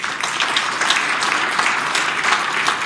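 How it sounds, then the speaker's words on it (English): A conference audience at a legislative summit on public health and safety claps steadily, a full, even wash of applause at moderate distance. "So please give the members of the legislature a round of applause as well."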